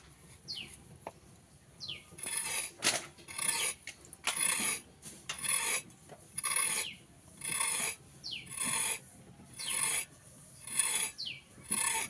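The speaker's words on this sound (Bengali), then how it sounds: "একটা গাজর কেটে নেবো" A knife cuts a carrot in a home kitchen, with about ten crisp rasping strokes in a steady rhythm, each a short scraping burst, close and fairly quiet, with brief pauses between them.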